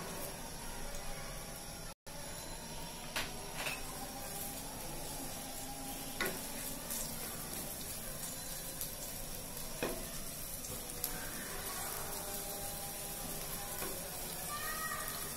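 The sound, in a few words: onions frying in a pan for ilish polao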